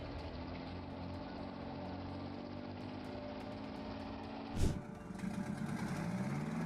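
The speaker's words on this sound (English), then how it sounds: "Keith Petty and the Blue Goose perform a full throttle pull with their" Blue Goose pulling truck with a V6478 engine running at full throttle in a pull, a faint, distant, steady engine drone with a sudden loud burst near the end followed by a rising, strained tone.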